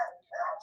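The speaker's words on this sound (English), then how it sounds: "Sorry about my dogs here." Dogs barking indoors during a math lecture, a couple of short close barks with a pause between them.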